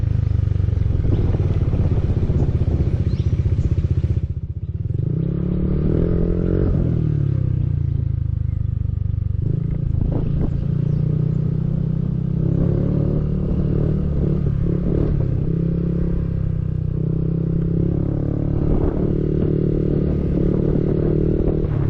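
A motorcycle engine drones steadily at close range while riding on a road from Abra to Paoay, its pitch shifting as it slows and picks up again, with rattling and wind noise.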